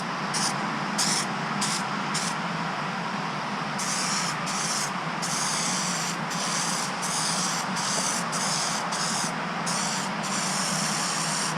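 A steady, continuous spray-gun hiss runs throughout, close and loud, as a light tack coat of red paint goes onto a BMW E36 M3 panel, broken into repeated passes with brief pauses between bursts; no talking.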